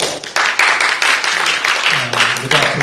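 Conference audience applauding at a sustainability event, a dense wash of clapping that runs steadily through the moment, with a voice talking over it toward the end.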